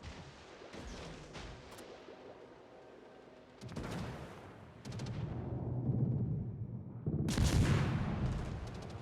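Naval guns boom from warships in World of Warships, a few heavy blasts with sharp cracks and rolling low rumble in between, moderately loud with no speech.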